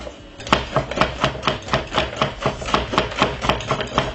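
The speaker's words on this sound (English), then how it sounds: "And we're gonna whisk it in." Rapid whisking in a bowl for an easy school lunch recipe: a steady run of sharp, evenly spaced taps of a whisk against the bowl, close and fairly loud, with no talking.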